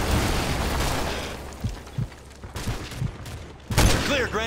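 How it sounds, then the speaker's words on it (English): Gunfire in the video game Call of Duty Modern Warfare 3, scattered heavy shots and bursts over a dense roar of battle, with a louder blast near the end followed by ringing debris. "We're taking fire!"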